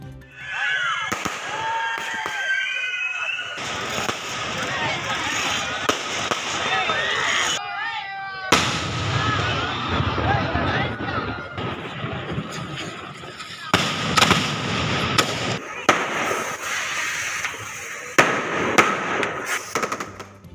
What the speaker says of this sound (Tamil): தொடர்ந்து வான வேடிக்கை, சக்கரம் சுழலும் வெடிகள் வெடிக்கப்பட்டது.